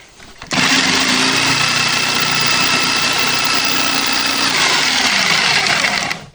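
A used electric jigsaw starts up abruptly and cuts continuously at a loud, steady, high-pitched whine for about six seconds before stopping.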